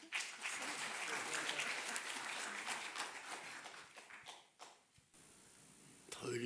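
Audience at a Korean religious gathering claps steadily for several seconds, fairly faint and roomy, then the clapping fades briefly before picking up again at the end.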